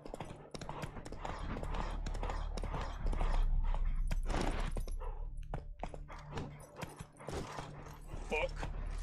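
In a video game, the horse Roach gallops with rhythmic hoofbeats while a person talks loudly over the action.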